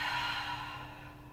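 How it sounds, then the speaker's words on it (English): A single slow, deep exhale at the close of a deep breath during a gentle bedtime yoga flow, soft and airy against a faint steady hum, with no talk. "Take a big breath in here and a big breath out"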